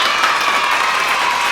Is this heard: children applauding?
yes